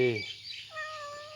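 A cat meows at a Buddhist temple in Thailand, with two short meows close by: a rising, harmonic-rich call at the start and a longer, drawn-out one that trails off.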